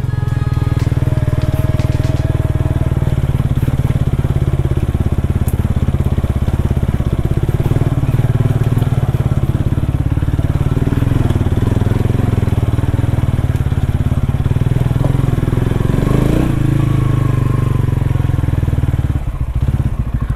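A TVS Ronin 225cc motorcycle engine labors loudly and steadily up a climb, a continuous low rumble with occasional clatter and thuds over the ride.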